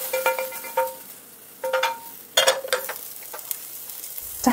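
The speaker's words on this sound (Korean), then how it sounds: "소고기 볶는데 익을 때까지 충분히 볶으세요" Beef stir-fried in oil in a pan for gujeolpan, a Korean dish: close, loud sizzling broken by bursts of stirring and metal utensil scrapes against the pan, with no talking.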